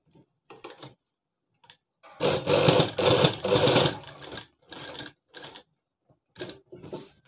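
A sewing machine stitches a shirt in several short bursts, the longest running for about two seconds, separated by pauses and faint handling sounds, close and moderately loud.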